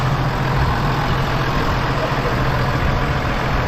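An old tractor idling nearby, a loud, steady low engine rumble that runs unbroken with no pauses.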